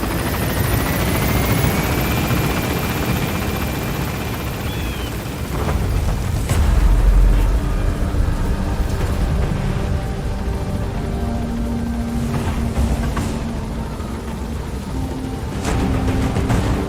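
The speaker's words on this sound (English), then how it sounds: "send the extraction chopper" Extraction helicopter lifting off in Metal Gear Solid V: The Phantom Pain, a loud sustained rotor whir and engine roar with rising pitch and rumbling bursts as it gains altitude, heard alone without talk.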